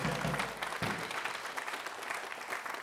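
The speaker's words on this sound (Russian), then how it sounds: "Вам аплодируют все, кто сегодня в студии." Studio audience applauding during a televised Russian Lotto draw show, a steady broadband wash of clapping that stays loud and continuous throughout, with no talk over it.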